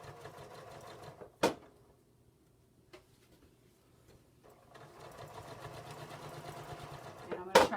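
Serger sewing machine stitching fabric for summertime placemats, a faint rapid mechanical whir that stops, leaves quiet with a couple of sharp clicks, then runs again, ending in a louder knock.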